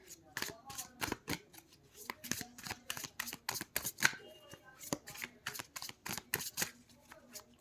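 Tarot cards shuffled by hand in a rapid run of crisp riffles and flicks, close and fairly quiet, continuing steadily throughout with no talking over it.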